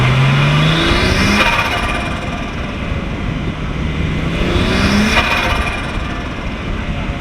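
A turbocharged Nissan R32 Skyline engine revs and lets off, its turbo fluttering in short chattering bursts between two rising throttle blips, loud and close with steady engine drone throughout.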